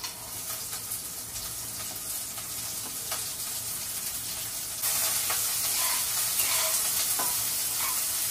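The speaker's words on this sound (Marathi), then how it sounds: "कांदा मस्त लालसर होईपर्यंत त्याला फ्राय करायचंय, म्हणजे मस्त भाजून घ्यायचा आहे." Two small onions, sliced lengthwise, fry in oil for veg masala pulao, giving a steady close sizzle with light stirring scrapes that grows louder partway through, and no talking.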